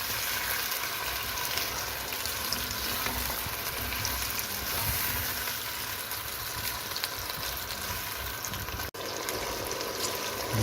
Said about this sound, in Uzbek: Kartoshkalarimizni ham yaxshilab qovurdik.